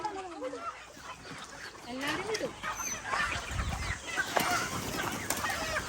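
Chickens in a small poultry business cluck and squawk in a busy flock after being let out, with scattered bird calls and fluttering. People talk over the birds throughout.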